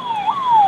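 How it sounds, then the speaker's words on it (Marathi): A police car siren wails on a road at the Kumbh Mela in Prayagraj, a single loud, close tone gliding down and up in less than a second. "बघा रस्त्यावरनं सारखी पोलिसांची गाडी वा करत आहे."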